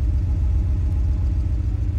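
Porsche 911 engine idling as the clutch engages in first gear and the car begins to creep, a steady low rumble close by with no talk.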